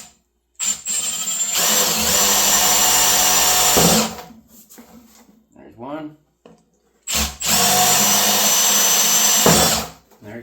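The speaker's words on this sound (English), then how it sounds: "So I'm going to drill through these black holes." Power drill fitted with a hole saw cutting holes to mount a float for a livestock water system, two loud sustained whining runs of a few seconds each separated by a pause, with a brief spoken remark between them.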